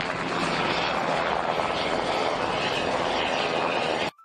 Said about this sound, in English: This is a military helicopter.